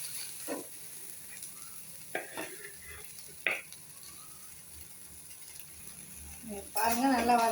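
Chopped coriander and sugar sautéing in a pan for a Bengal gram dal dish, faint low sizzle broken by a few spoon scrapes and clinks, ending with a louder sputtering burst as something is added.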